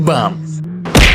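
Vehicle in the BeamNG.drive driving game, a flatbed truck hauling cars, hits a speed bump, giving a single loud thud near the end after engine drone.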